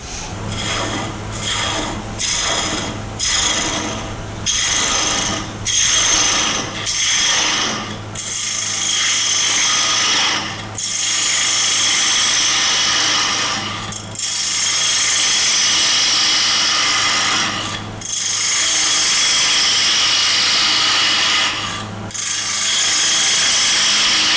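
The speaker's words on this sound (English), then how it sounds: "when you're actually turning a bowl like this, it's always best to leave the bevel rubbing on the way out" A bowl gouge cuts a square-edge wooden bowl spinning on a lathe, its bevel rubbing, producing a loud continuous scraping hiss broken by brief rhythmic pauses as the tool passes the corners.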